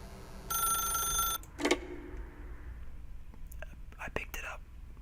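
Telephone rings in the video game The Stanley Parable, a short burst of repeated electronic ringing followed by quiet room tone and faint, brief sounds.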